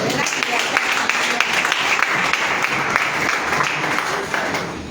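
Church congregation applauding to acclaim the Lord, with steady, loud, close clapping mixed with voices and cheering throughout.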